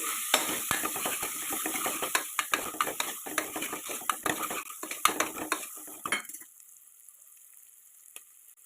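Tomato with salt and turmeric sautéed over a high flame for radish sambar, giving a close, steady sizzle with busy scraping stirs of a utensil against the pan that stop abruptly, leaving quiet hiss.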